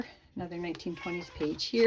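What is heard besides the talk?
pet cat meowing in the background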